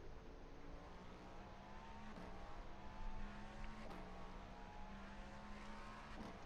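A GTP prototype race car engine at full throttle around Daytona in the iRacing sim drones steadily at high revs, broken by brief dips at gear shifts.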